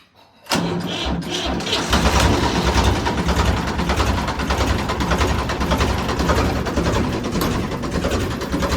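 A tractor engine turns over and catches after a brief quiet moment, then settles into a loud, steady, close rumbling idle with a fast rhythmic chug that continues to the end.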